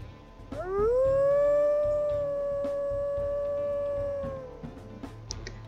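A single long, clear wolf howl from a video game rises quickly, holds a steady tone for several seconds, then fades, with faint background noise and a small chirp at the end.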